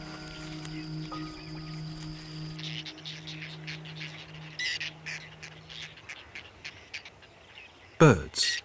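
Birds call along the shores of Lake Nasser in Egypt, scattered squawks and chirps at moderate distance over a low hum, with a sharp louder burst near the end.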